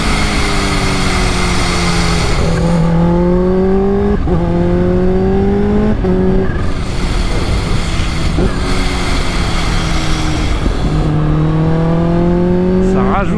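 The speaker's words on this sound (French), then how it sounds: "ce shifter, ce bruit, tous les bruits de cette moto sont incroyables." A 280-horsepower Kawasaki H2 motorcycle is ridden hard. The engine revs climb and drop repeatedly, with quick-shifter cuts between gears. It is loud and continuous, with a rider's voice speaking over it in places.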